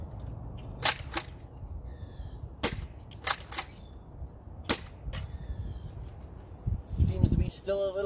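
A Nerf blaster fitted with a red dot optic fires at a target, giving a handful of sharp, close pops spaced a second or two apart over a low background hum.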